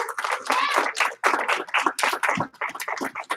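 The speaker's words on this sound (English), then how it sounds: "Give him one clap. Give it two claps." A class of students claps for a classmate, sharp overlapping hand claps coming in quick bursts, close and loud, with brief pauses between rounds.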